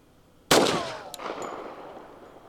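A Colt Gold Cup National Match .45 pistol firing commercial ammunition: one sharp, loud close-range shot with a ringing tail, followed by a fainter metallic clink as the echo dies away.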